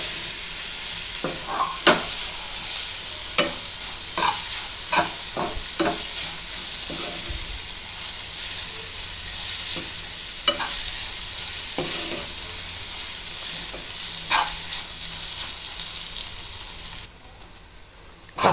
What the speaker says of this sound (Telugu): అండ్ అలాగే ఒక ఫుల్ లెమన్ అన్నమాట వేసేసుకొని బాగా మిక్స్ చేసుకోవాలన్నమాట